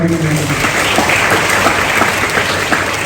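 An audience claps loudly and steadily throughout, a dense wash of many hands at a public event honouring a scholarship donation, with no voice over it.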